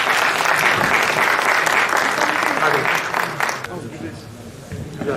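A group applauds health workers at an emergency call center, loud steady clapping that fades after a few seconds, followed by scattered claps and a brief voice.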